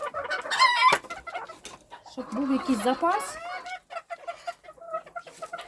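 Bantam roosters clucking and crowing nearby while being handled for breeding selection, several loud, rough calls in bursts separated by short pauses, with a person speaking softly between them.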